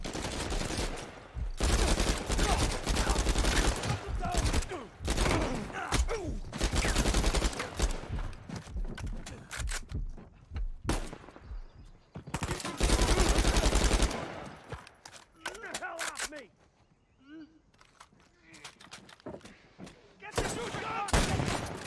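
Shotgun and other gunfire in the Uncharted 4: A Thief's End action game, with dense, loud volleys of shots coming in repeated bursts separated by short lulls, and a voice heard now and then.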